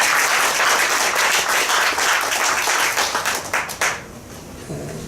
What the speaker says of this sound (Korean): 우리 축하의 의미로 박수 드리도록 하겠습니다.